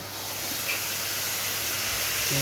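Water hits a sizzling spice paste with Kashmiri red chilli powder in a pan for haser deem gokni, a steady loud steaming hiss that fills the whole short moment with no talk.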